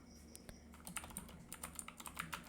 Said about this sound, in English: So I'm typing the folder name